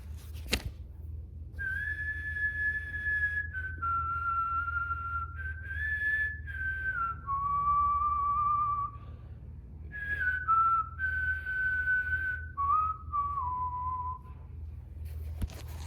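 A person whistles a slow, clear melody alone, the tune rising and falling through sustained held notes and short slides, moderately loud with a low background hum and no talking.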